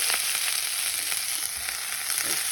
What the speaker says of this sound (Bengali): এটা মোটামুটি ভাজা হয়ে গেছে